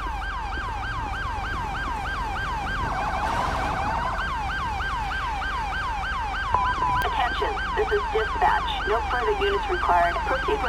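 Ambulance siren in the LSPDFR police game, a loud wailing tone cycling steadily up and down, briefly changing pattern, then continuing with engine noise and someone talking later.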